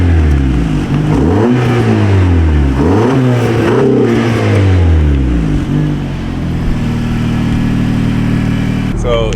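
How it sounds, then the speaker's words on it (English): A Honda Accord fitted with an Axion 2-into-1 aftermarket downpipe revs up in repeated loud blips, the engine note rising and falling several times before settling into a steady idle, recorded close to the car. "Just give it some revs, I guess. Let's see how it sounds."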